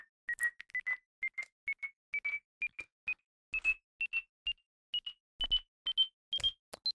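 A rapid series of short electronic beeps and bleeps from a stand-alone game built in a C++ game engine, rising in pitch and speeding up, clear and alone.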